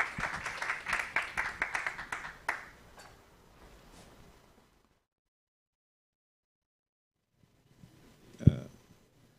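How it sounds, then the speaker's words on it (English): A conference audience applauds the speakers at a social sciences and data science event, a few seconds of moderate, fairly sparse clapping that thins out and gives way to near silence, followed by a single sharp knock. "let's give them a round of applause"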